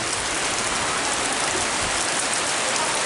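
Steady rain falling outdoors beside a deck overlooking ponds, making a dense, even hiss of drops on surfaces that stays loud and unbroken throughout with no voices.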